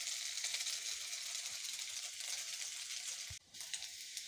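Dal bhuna with egg sizzles and fries steadily in a pan over a gas stove, a continuous bright crackle with a short break near the end.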